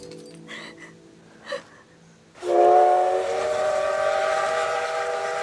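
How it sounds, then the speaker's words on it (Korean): A steam locomotive whistle bursts in loud and close after a few seconds of faint, scattered sounds, then holds as a long, steady, bright tone to the end. "전기가 필요 없는 증기 기관차였습니다."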